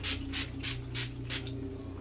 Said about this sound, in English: I'm gonna use the ColourPop Aquamarine Crystal Setting Spray because I don't use this one often